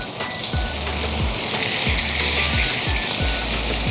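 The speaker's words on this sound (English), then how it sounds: "you want to go in and hear that sizzle" Jerk chicken pieces sizzle loudly and steadily in a hot pan, a dense continuous fry with soft rhythmic low thumps as pieces are laid in, no voices.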